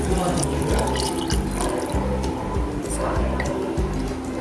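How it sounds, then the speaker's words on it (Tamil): Steady rush of water pouring continuously into a pot of rice, with clinking and rattling utensil noises mixed in throughout. "இப்போ நம்ம தண்ணி ஊற்றிக்கலாம்."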